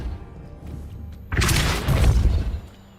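A Depulso spell cast in the Hogwarts Legacy video game, a sudden loud whooshing blast that bursts in after low rumbling game ambience and roars on for over a second before easing off.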